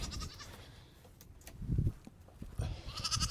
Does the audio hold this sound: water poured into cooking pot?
no